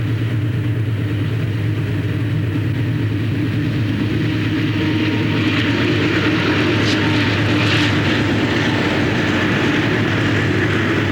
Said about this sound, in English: Northbound freight with an Alco and a GE passing the Borden Chemical Plant in Bainbridge.